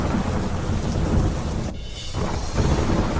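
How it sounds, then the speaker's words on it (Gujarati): Heavy monsoon rain pours down in Ahmedabad with a loud, continuous roar, while deep thunder rumbles underneath throughout. "અમદાવાદમાં ભારે વરસાદ"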